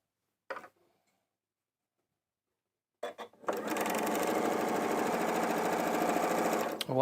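A sewing machine stitching quilt fabric for a quilt block runs in one sustained, loud burst of fast rhythmic needle chatter after a brief sound and a pause, stopping abruptly at the end.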